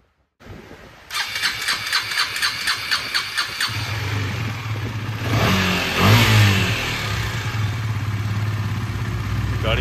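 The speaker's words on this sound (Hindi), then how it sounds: "चाबी लगा के बस स्टार्ट करते हैं इसको।" A KTM Duke 250 motorcycle engine cranks with a rapid starter whir, catches and fires up, then revs higher before settling into a steady, loud close idle with no talking.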